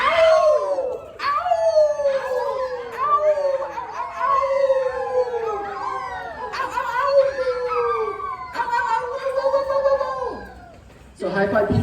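Several people yelling together in a group wolf-howl imitation, long rising and falling wavering cries overlapping loudly for about eleven seconds before breaking off.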